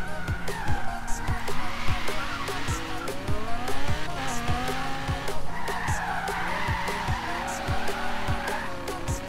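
A stock-tuned, all-wheel-drive Audi R8 slides through a drift in Forza Horizon 3. Loud, sustained tire squeal and skidding run the whole way, over a steady, revving engine drone.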